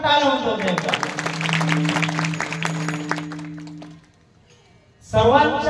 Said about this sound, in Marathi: आयोजक मंडळीसाठी जोरदार टाळ्या होतात.